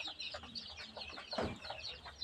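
Chickens cluck softly and steadily inside a poultry house, with one louder, closer squawk partway through and a constant low hum of the shed beneath.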